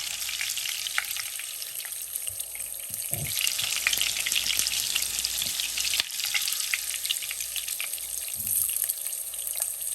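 Halved potatoes frying in hot oil with leftover water spattering, a loud, dense crackle and hiss that runs continuously and close throughout, with sharp pops breaking through and no speech.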